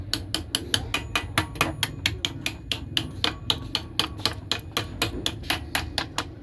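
A hammer taps a stopper part into place on a Model 761 buttonholing machine, giving a fast, regular series of sharp metallic clicks. The taps come about four times a second, close and crisp, with no voices.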